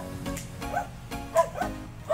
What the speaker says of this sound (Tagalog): May aso dun sa dulo guys.